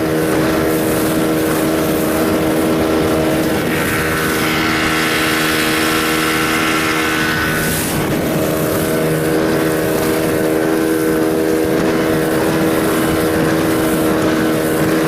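A motorboat engine drones steadily and loudly at sea, heading out for sea bream fishing off Zeytineli, with wind buffeting the microphone and a brief rise in hiss midway through.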